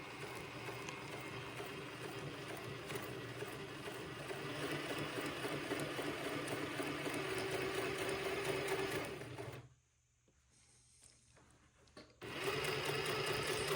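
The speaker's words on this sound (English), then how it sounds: "I'm going to sew this seam on both sides at about 1/8 of an inch." A sewing machine runs steadily, stitching a 1/8 inch French seam in unhandled fabric for a baby bubble romper, a close continuous whir that stops briefly near the end before starting again.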